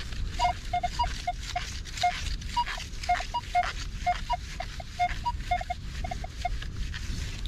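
Minelab Equinox 800 metal detector giving short electronic beep tones while sweeping a field, a series of irregular blips repeating at a couple of pitches, clear over a soft background hiss.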